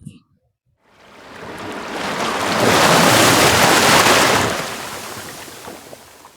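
A tsunami-style ocean wave effect: a broad roaring wash of water that swells up steadily, peaks loudly, then slowly recedes.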